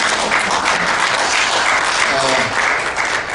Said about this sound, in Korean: 우리 큰 박수로 다시 한번 감사드리겠습니다.